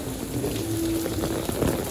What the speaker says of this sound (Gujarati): શેરીમાં વરસાદ પડી ગયો હારા મારો